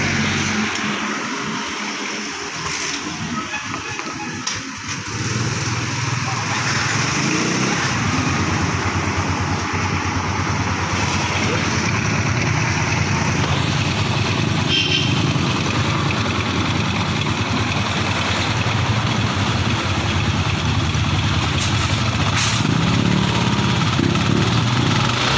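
A Yamaha Sniper MX150 motorcycle engine idles steadily and close by, its clutch housing opened up during work on a clutch damper problem; the running is continuous and unchanging for the whole stretch.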